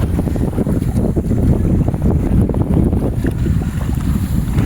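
A new boat fitted with a Yamma 20 HP engine runs steadily on open water, its outboard drone carried under loud wind buffeting the microphone and splashing waves throughout, with no speech.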